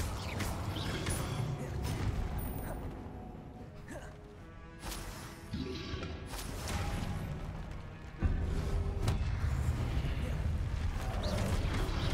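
Combat spells in Hogwarts Legacy, including a fire blast and a levitation charm, crash and boom in dense bursts over layered game effects, with a voice speaking faintly among them.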